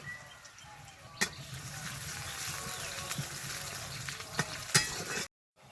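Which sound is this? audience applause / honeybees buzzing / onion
onion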